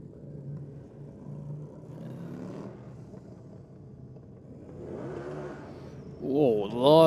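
A Harley-Davidson V-Rod revs hard off the start line at a Sydney drag strip bike night, a loud rising engine roar that swells near the end of the clip.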